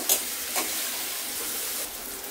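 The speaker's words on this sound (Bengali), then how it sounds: "পেঁয়াজ টমেটোগুলো ভালো করে ভেজে নিব।" Chopped onion, tomato and green chilies fry in hot oil with a bright, hissing sizzle close by, marked by a couple of sharp spatters near the start.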